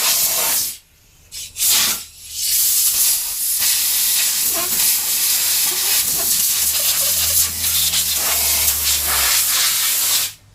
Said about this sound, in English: I like to use an air compressor just to clean it off. And then I honestly just blow it off.